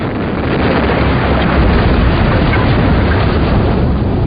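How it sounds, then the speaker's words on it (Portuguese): A loud, sustained roaring rumble from an explosion welding blast fills the clip, broad and continuous like a powerful blast dying out, with heavy low-end buffeting. "E isso é chamado de soldagem por explosão."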